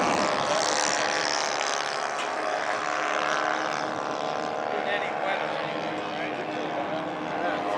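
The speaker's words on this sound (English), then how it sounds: "on his takeoff roll is Mark Johnson with his B-25" Radio-controlled B-25 bomber model at a Fox Valley Aero Club air show, engines droning steadily through its takeoff roll, loud and continuous with a slowly shifting pitch, under an announcer's voice.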